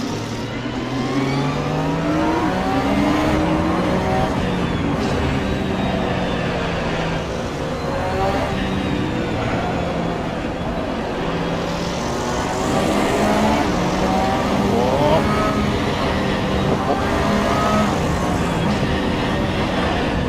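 Racing car engines in a GT3 racing video game drone and whine continuously, pitch climbing and falling as cars accelerate and shift, loud and unbroken throughout.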